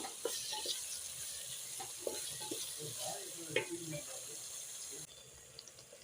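Chilli powder masala with curry leaves frying in a pan for Tamil-style fish curry, a steady sizzle with stirring scrapes and brief water or tap sounds, close and moderately loud, with no talk.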